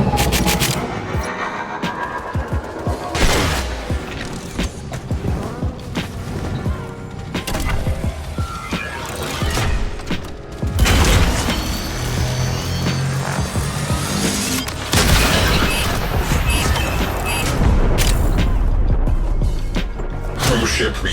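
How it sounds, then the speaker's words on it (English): A cruise ship reactor blows up during Railjack space combat in the video game Warframe: loud, dense crashing and rumbling blasts, with heavier bursts partway through, over continuous layered game audio. "Cruise ship reactor has detonated."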